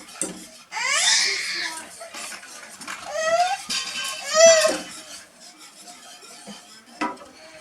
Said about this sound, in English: I'm going to take one of them and dump it in here and give that a really good stir